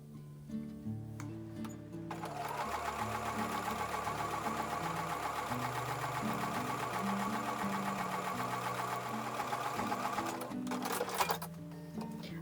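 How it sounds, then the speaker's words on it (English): A sewing machine stitches quilt sashing strips with a 1/4 inch seam, a fast, steady mechanical whirring with rhythmic ticking that runs about eight seconds before stopping, with some soft background music throughout. "now I'm going to take these over to the sewing machine and sew with a 1/4 inch seam allowance."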